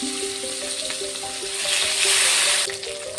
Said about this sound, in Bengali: আমি 7 পিস কাতলা মাছ কেটে ধুয়ে নিয়েছি, মাছটাকে ভেজে নিই।